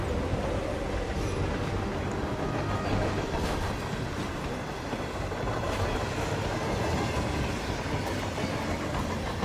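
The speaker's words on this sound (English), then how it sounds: "Welcome to the train level." A moving train in the video game Hitman: World of Assassination, a loud, continuous rumble with rolling wheel-on-rail clatter and a faint rhythmic clack throughout, heard alone.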